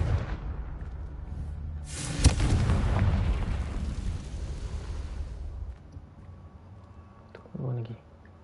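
A Confringo fire spell explodes in the Hogwarts Legacy video game, a sharp crack followed by a heavy rumbling blast that slowly fades, over game background noise.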